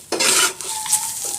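Onions and pointed gourd fry in a pan with a loud burst of stirring and scraping, then a quieter sizzle and a light metallic clink. The sound is brief and close.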